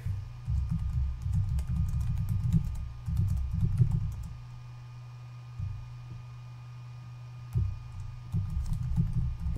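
Typing on a computer keyboard, with bursts of close, rapid clicking key presses separated by short pauses, alone over a faint steady hum.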